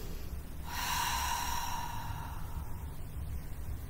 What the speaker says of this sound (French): On va venir inspirer en ouvrant au niveau des côtes et souffler en ouvrant la bouche.